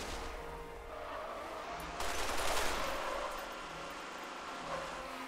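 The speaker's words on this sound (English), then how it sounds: "Stop shooting!" Gunfire rattles through an online Halo: Master Chief Collection multiplayer match as a dense burst of shots over a continuous game soundscape, peaking near the middle, with no speech.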